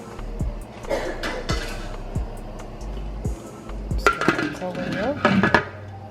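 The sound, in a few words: covering a pot of seafood boil with a lid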